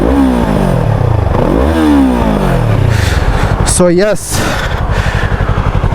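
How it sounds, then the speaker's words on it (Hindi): A stock-exhaust Yamaha R3 300cc sport motorcycle revs up and down several times close by, its engine note rising and falling, with someone talking over it. "सो स्टॉक एग्जॉस्ट है, this is how it sounds."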